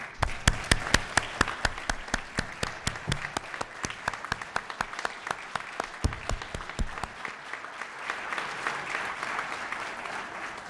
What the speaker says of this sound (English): please stand and receive your great round of applause